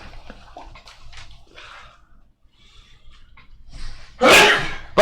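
A single sharp sneeze bursts out loud and close after a stretch of quiet, scattered talk at a tabletop game session.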